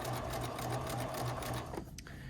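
A sewing machine stitches corded piping in a fast, even, rhythmic chatter up close, then stops briefly near the end.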